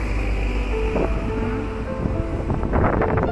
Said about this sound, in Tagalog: Ayan oh, grabe ang hangin oh.